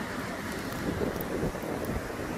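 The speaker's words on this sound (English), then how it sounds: "This is Smith Point Beach in Shirley on Long Island." Rough ocean surf at Smith Point Beach in Shirley, Long Island, rumbles as a steady, loud wash with heavy wind noise on the microphone and no talking.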